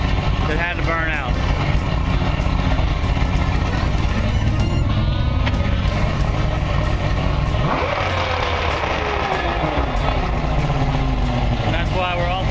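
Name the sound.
outboard motor engine running after carburetor cleaning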